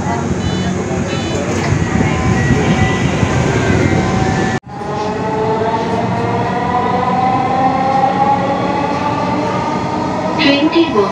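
Dhaka Metro Rail train running with a steady, loud rumble, briefly cut at one point before resuming, while an onboard voice announcement plays over the noise.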